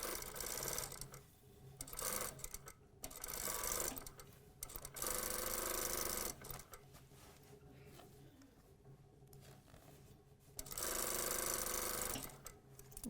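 Sewing machine stitching the outside leg seam of a pant, running in bursts of steady whirring with stops between and a brief back tack, close and fairly loud, no talking.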